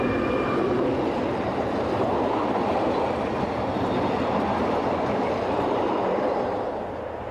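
A train rolls steadily along a European railway line near a locomotive works, its broad rumble and rail noise holding at a constant loud level throughout before easing slightly at the end.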